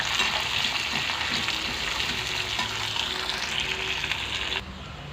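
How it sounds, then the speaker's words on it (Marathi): Onion and green chilli frying in hot oil with lentils, a continuous loud sizzle with some stirring underneath that drops away abruptly near the end. "आता याच्यात आपण कांदा आणि हिरवी मिरची घालायची आहे तेही आपण चांगलं परतून घ्यायचं आहे"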